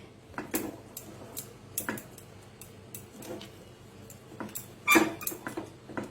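A milk powder sweet mixture being stirred continuously in a pan over a low flame: sparse, irregular spoon scrapes and ticks against the metal, quiet and close, with one louder knock near the end.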